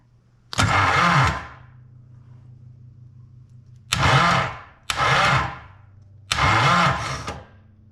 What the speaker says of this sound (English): the starter gear there did stick a little bit until the engine made a complete compression rollover, and then it kicked out on its own